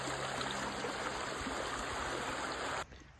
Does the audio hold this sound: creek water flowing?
yes